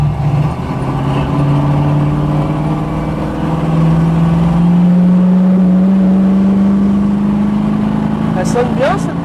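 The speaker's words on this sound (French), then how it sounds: "Elle sonne bien cette petite Mustang là." Ford Mustang V8 engine running and revving, a loud steady low drone that rises slowly in pitch, heard up close from inside the cabin with talk over it.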